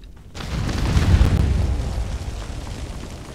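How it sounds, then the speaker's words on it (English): A single deep, rumbling explosion in the video game Conan Exiles, set off during a base raid, swells and rolls on with a heavy low boom before trailing off, with no one talking. "Explosions."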